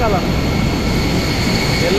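A steady, broad roar of a yellow local-airline passenger plane passing overhead at night in Da Nang, Vietnam, loud and continuous, with muffled voices underneath.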